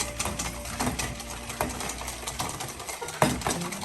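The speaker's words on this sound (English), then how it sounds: "And just start whisking." Sugar and a teaspoon of vanilla whisked in a bowl for chocolate biscuit strawberry shortcake, a steady close scraping and tapping of the whisk against the bowl with a sharper knock near the end.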